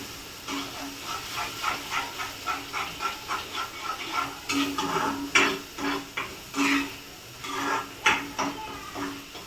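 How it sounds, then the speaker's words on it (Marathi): Sesame frying in a pan for khengat, a Bhogi mixed-vegetable dish, giving a steady hiss with rhythmic pulses of crackle, as if the pan is being stirred or shaken, close and fairly loud with no talking. "मी छान असा फ्राय करून घेते"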